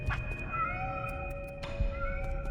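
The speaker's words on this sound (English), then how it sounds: "That's so funny, it's cats." Cats meow repeatedly in the video game Nine Sols, several drawn-out tonal cries layered over a low ambient hum, fairly quiet and without speech.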